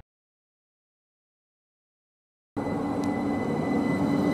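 An S-Bahn commuter train on the Brenner line rolls into the station with a sudden, steady roar of wheels and motors after more than two seconds of silence, staying loud and close to the end.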